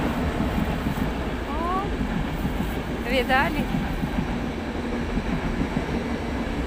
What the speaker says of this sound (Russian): Видите, под домом точно не брешу, поезд едет.